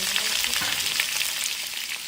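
Potatoes frying in oil with mustard seeds and curry leaves, a dense continuous crackling sizzle, close and even, with a faint clink of stirring and no voices.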